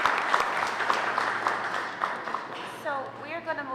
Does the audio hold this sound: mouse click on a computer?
no